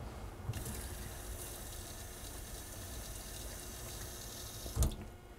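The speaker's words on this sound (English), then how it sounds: "and then I'm going to add water to this." Steady stream of water from a tap filling a container of shredded paper, a continuous gushing hiss at moderate level ending with a brief bump.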